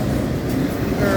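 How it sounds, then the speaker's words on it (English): A BNSF freight train hauling autorack cars rolls steadily past at close range, a continuous loud low rumble of wheels and cars with a faint high squeal near the end. "That train was pulling 49 cars."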